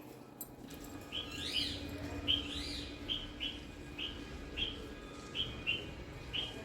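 A small bird chirps in a tree outdoors, giving a series of short, bright, evenly spaced calls at moderate distance over steady low background noise, with no talking.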